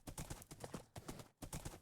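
Horse hooves clip-clopping in a steady quick rhythm, close and prominent, the footfalls repeating throughout with one brief pause.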